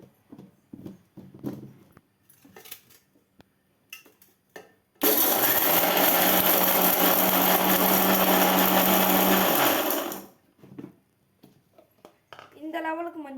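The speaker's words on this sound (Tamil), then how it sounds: "இதை மிக்சியில் போட்டு ஒரு 2 சுற்று சுற்றிடலாம்" A kitchen mixer grinder (mixie) whirs loudly for about five seconds of grinding, starting and stopping abruptly, with speech before and after.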